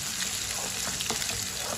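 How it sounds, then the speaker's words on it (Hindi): Finely chopped onion fries in a few spoonfuls of oil, giving a dense, continuous sizzle that stays steady and close for a couple of seconds, with no voices. "3 चम्मच ऑयल डालेंगे। बारीक कटा हुआ 1 प्याज डालेंगे। प्याज को अच्छी तरह ब्राउन कर लेंगे।"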